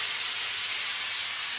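A pressure cooker vents a steady, loud jet of steam as its whistle goes off while cooking dal, a continuous bright hiss with no pause and no voices.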